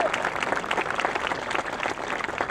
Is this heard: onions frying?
no